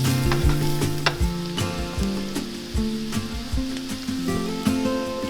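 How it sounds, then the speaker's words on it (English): Red onion, green onion and garlic sizzle steadily in a hot pan, with repeated scraping and clacking as a utensil stirs them close up. "I'm going to saute all of this until the red onion starts to get pretty soft"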